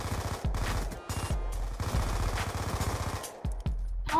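Automatic gunfire in Black Ops 2, a steady stream of rapid shots in several long bursts separated by brief pauses, close and loud against game background noise.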